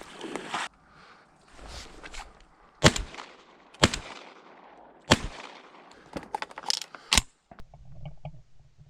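Sharp shotgun blasts ring out across a marsh while duck hunting shoveler ducks, about six loud reports spaced irregularly over several seconds, with faint rustling and movement between shots.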